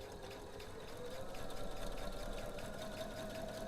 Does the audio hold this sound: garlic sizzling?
no